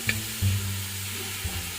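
Potatoes frying in oil in a wok over an outdoor fire at a picnic, with a steady broadband sizzle and a low hum from the fire running throughout, plus a brief stir at the start.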